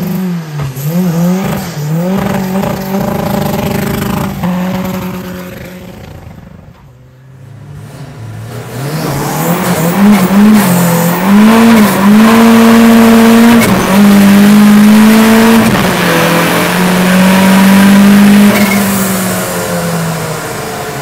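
A heavily modified 400+ hp Seat Arosa TDI launches hard, its diesel engine droning and rising in pitch through repeated surges as the tires spin, loud and close with a brief lull partway through before climbing again.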